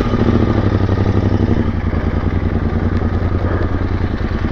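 Royal Enfield 650 Interceptor and GT twin-cylinder motorcycles ridden on a basic off-road trail, a loud, steady, close engine rumble with a rapid pulsing throb throughout.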